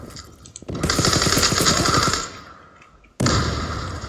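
Rapid, loud bursts of gunfire from a double-barrel pump shotgun in a video game played on a Mardin map: a dense volley, a short lull, then another sharp burst.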